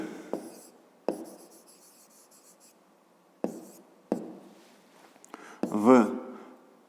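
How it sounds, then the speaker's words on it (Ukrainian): Pen scratching on paper while working a grade 5 maths exercise, in short bursts of writing with pauses between them, close and fairly quiet. "Записуємо."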